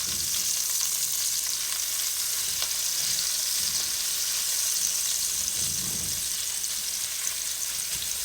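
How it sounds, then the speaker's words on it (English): Bacon grease pops and sizzles hard in a hot pan while meat fries for a cheesesteak melt, a continuous loud crackle with scattered sharper spits throughout. "that bacon grease is popping the fool out of me"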